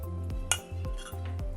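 Utensil clinks and scraping against a bowl as cooked Bombay rava (semolina) is worked into wheat flour, a few close metallic taps over a steady low hum, no talking.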